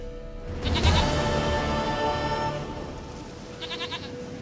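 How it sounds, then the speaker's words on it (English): A goat in The Witcher 3 video game bleats loudly and close, a long wavering cry followed by a shorter, fainter bleat over soft background music. "Goat of mine, dearest, sweetest goat."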